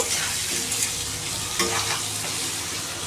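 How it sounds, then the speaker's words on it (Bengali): Potato pieces tossed with turmeric and salt fry in hot oil, giving a steady, dense sizzle and crackle that continues without break, close up and with no voices. "আলুটা ফ্রাই করে লাল লাল করে ফ্রাই করে উঠিয়ে নেব"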